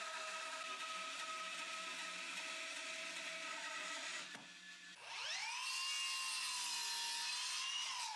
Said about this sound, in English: I can get the edges trued up at the planer.